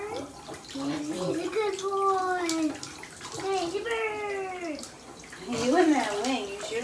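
Shower water sprays steadily on a bird being washed, while a person speaks in a high, sing-song voice over the running water.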